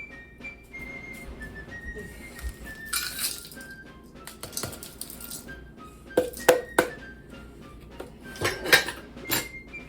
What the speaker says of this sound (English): I will also put some ice in this, actually.